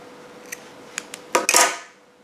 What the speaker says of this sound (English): And then just trim the loose yarn end.